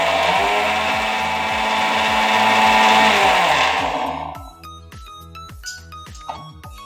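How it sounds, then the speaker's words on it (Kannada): A mixer grinder blends muskmelon seeds with milk into a paste, giving a loud, steady whirring roar that runs for about four seconds, then cuts off and leaves a few light clinks and rattles. "ಹಾಲು ಮತ್ತು ಬೀಜಗಳು ಎರಡು ಸೇರಿಸಿ ನಾನು ಗ್ರೈಂಡ್ ಮಾಡಿದ್ದೇನೆ"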